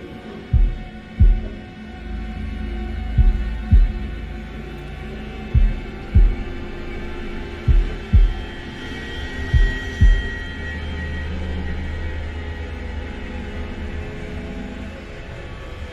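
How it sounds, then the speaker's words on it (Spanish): Heartbeat sound effect from the horror video game Man of Medan: deep paired thumps beating at a steady rhythm over a low droning hum, fading out partway through. "Pulsa A al mismo tiempo que el latido."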